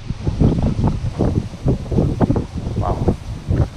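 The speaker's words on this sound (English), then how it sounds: "It's really windy right now." Strong wind buffets the microphone outdoors at Bill Baggs, Key Biscayne, in irregular low-pitched gusts and rustling bursts that rise and fall, fairly loud throughout.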